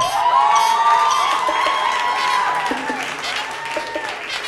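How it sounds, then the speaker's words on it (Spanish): A live show audience cheers and applauds, with whoops and high shouts riding over a wash of clapping, loud at first and easing off as voices call out across the room. "Aplausos para Carolina Perpetua, por favor"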